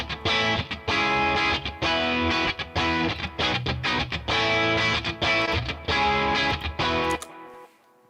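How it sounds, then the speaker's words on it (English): Distorted electric guitar through an amp simulator with stereo delay and reverb, dense chords and repeats playing loudly and continuously for about seven seconds before a short reverb tail fades out. "now you hear the delay is actually in stereo"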